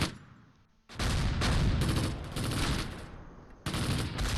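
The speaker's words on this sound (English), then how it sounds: "Ooh, we're getting shot at." Heavy, dense gunfire and explosions roar through the Close Combat World War II battle near Caen, as a continuous loud barrage of overlapping shots with only a brief, slightly quieter dip before it surges again.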